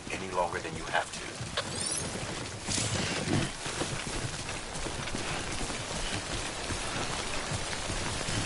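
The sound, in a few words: timefall rain in Death Stranding video game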